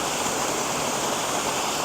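The Fairy Glen waterfall at Appley Bridge roars steadily and close, a dense unbroken rush of falling water filling the whole short stretch with no voices.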